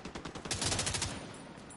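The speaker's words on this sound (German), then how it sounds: "Ich habe auf Gegner geschossen" Rapid burst of automatic gunfire in The Division 2, a string of sharp close shots in quick rhythm that trails off into fainter firing, with no voices.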